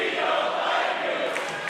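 A wrestling arena crowd jeers Rex Lawless during his match with Nic Nemeth, a loud, sustained wash of many voices filling the whole moment without a break.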